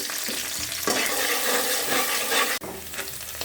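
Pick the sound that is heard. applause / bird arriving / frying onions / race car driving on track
frying onions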